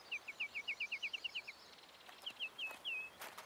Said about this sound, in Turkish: Kuş seslerini dinle abi.